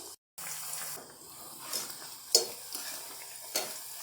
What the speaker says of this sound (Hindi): हल्का हल्का गोल्डन कलर आने तक फ्राई करेंगे